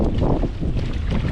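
Gusty wind buffets the microphone outdoors while fishing, a loud, continuous low rumble with fluttering surges and no voices.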